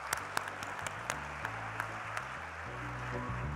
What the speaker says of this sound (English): Please join me in giving our esteemed speaker a round of applause.